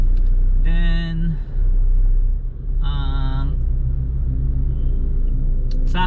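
Inside a new Nissan Navara diesel pickup cruising on a highway, a loud steady low rumble of road and engine noise runs throughout, with two brief tonal voice-like bursts and a faint click near the end.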